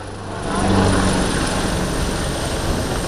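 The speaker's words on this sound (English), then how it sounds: "139 is a medium-sized utility helicopter" An AW139 medium-sized utility helicopter used for search and rescue and maritime patrol, heard at the Malta International Airshow as a steady, loud rotor and turbine roar, continuous and fairly close, with no talk.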